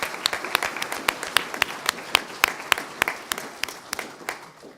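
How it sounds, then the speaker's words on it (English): An audience at a further-education college achievement awards ceremony applauds, a steady stream of sharp hand claps, fairly close and continuous throughout with no talking. "Can we have a round of applause for the college for putting this on?"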